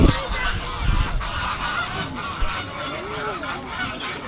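Ducks and geese squabbling on the water, honking and calling in repeated harsh bursts at close range, a steady busy outdoor din with no one speaking.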